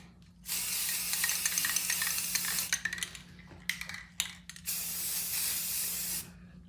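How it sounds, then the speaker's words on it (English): A spray can of primer hisses in long, steady close-up bursts, followed by a few short spurts and one more sustained spray. "this is my cheap spray box. And I'm just going to give it a quick coat."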